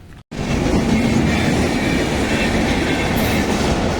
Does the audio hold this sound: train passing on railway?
yes